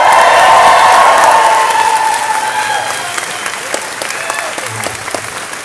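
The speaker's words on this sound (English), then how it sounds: "If you'd all like to give them a massive cheer." A convention crowd at the AmeCon 2012 opening ceremony applauds and cheers the event committee, a loud, dense wash of clapping that stays steady, then slowly eases off across the few seconds.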